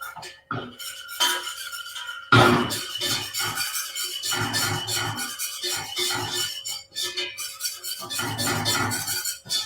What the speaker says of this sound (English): Flour and butter making a roux.